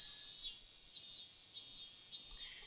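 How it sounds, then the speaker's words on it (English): A dense chorus of cicadas from the Higurashi visual novel, a steady high-pitched buzzing drone that swells and eases in regular pulses about every half second, heard alone with no voices. "The great chorus of cicadas was strongly underlining how nothing was different today than yesterday."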